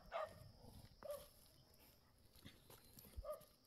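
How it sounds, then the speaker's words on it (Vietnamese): A pack of aggressive dogs barking at a distance on a rural highland road in springtime, giving a few scattered faint barks and yips over quiet background noise. "Đấy, đàn chó rất là hăng."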